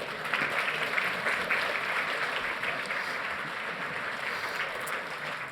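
An audience at a software conference summit applauds, a moderately loud, dense patter of clapping that peaks early and then slowly fades a little, with no talk over it.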